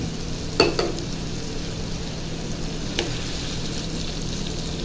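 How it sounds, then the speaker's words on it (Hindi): A spoon stirs tomatoes and beef liver on a hot tawa, giving a few scraping clinks against the pan over a steady sizzle that runs throughout. "इसे अच्छी तरह मिक्स कर लेते हैं"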